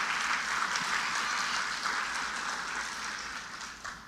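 A church congregation applauds in a continuous wash of many hands clapping, steady at first and then tapering gradually toward the end, heard from some distance without speech.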